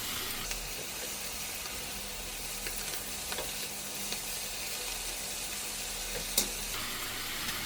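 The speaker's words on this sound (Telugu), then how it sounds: "పొన్నగంటి కూర కూడా బాగా వేగాలి, ఎందుకంటే తొందరగా ఉడకదు తోటకూర లాగానే." Ponnaganti greens frying in oil with salt, chili powder and turmeric, a faint continuous sizzle with scattered small crackles and one brief sharper clink, no voices.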